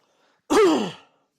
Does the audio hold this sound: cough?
yes